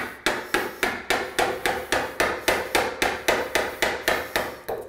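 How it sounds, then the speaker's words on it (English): A chisel cuts wood for a French door installation, struck in a steady, fast series of about sixteen sharp, close knocks over a few seconds, with no talking. "As long as you hold that beveled edge on the same angle that'll slide that chisel across, it'll cut relatively the same depth."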